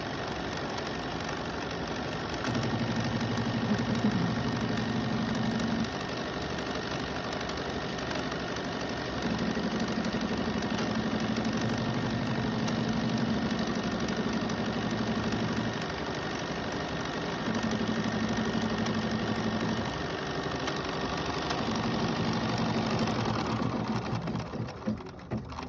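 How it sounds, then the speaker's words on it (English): An embroidery sewing machine stitches a fabric placement line on batting for quilting in the hoop, its steady mechanical whir running in several long bursts with short pauses between, fairly close and alone with no talk. "now it's going to run the placement for the fabric"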